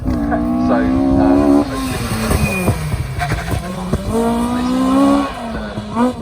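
A Porsche 911 GT3 RS drifts on a wet track at Bicester Heritage, its engine revving and falling with throttle changes amid tyre noise and spray. Someone talks over it throughout.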